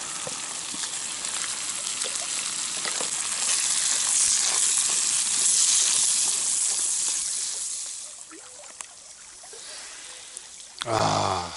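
Snails frying in a pan, a steady close sizzle and crackle with faint stirring, swelling in the middle and easing off before a brief clatter at the end.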